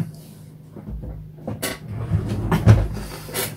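Boxed paints rattle and clatter inside a drawer as it is rummaged through. Close, uneven knocks and scrapes build to a louder cluster of clunks near the end, with no talking.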